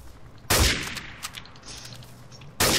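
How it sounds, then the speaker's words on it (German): Pistol shots in Counter-Strike Source, two loud, sharp gunshot bursts about two seconds apart, with scattered fainter game clatter in between. "Ich hab da Pistol geschossen."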